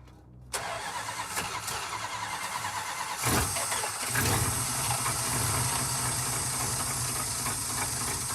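An old car engine on a cold, frosty day cranks, then catches and settles into a steady, rough running rumble nearby, with no speech over it.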